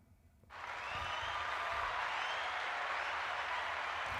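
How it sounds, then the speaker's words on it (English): A round of applause that swells in after a brief quiet moment, then holds as a steady, even wash of many hands clapping, fairly soft and distant. "You should give them a round of applause."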